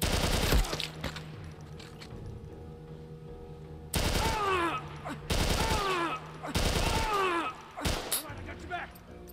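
Several loud bursts of gunfire from a weak gun in The Last of Us Part I, coming in three or four heavy clusters with metallic ringing and clatter in between, over a low hum.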